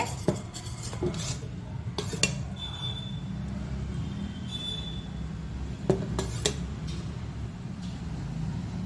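A plate and metal utensils handled in a home kitchen while making peanut barfi, with sharp scattered clinks and clatters over a low steady background hum.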